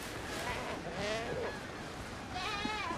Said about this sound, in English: Those goats are fine. Don't have to worry about those goats.